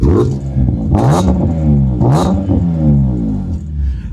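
Several sharp throttle blips from a BMW E46 M3 with an aftermarket exhaust, each rev climbing quickly and falling back over a loud, close, rumbling idle.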